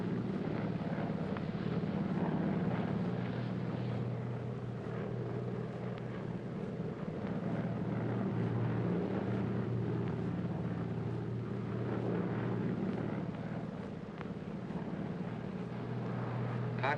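Airplane cabin noise in flight, a steady low droning hum that runs continuously at a moderate level with no talk over it.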